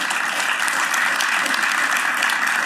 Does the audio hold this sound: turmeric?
no